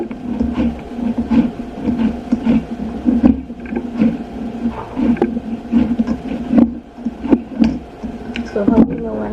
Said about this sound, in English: One hand not strong enough to mix the flour.